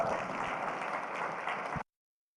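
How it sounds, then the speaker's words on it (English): Audience applause for an Eagle Scout at his court of honor, a steady, dense wash of clapping that holds evenly for nearly two seconds and then cuts off abruptly. "give Jude one more hand since we're not done clapping tonight"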